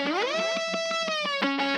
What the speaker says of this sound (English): And then it does this kind of cool riser thing.